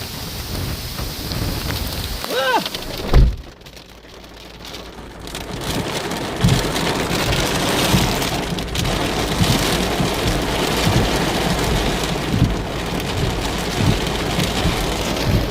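Heavy rain lashing down during a thunderstorm while camping, a dense constant hiss of drops drumming on surfaces, with a sharp close thud near the start.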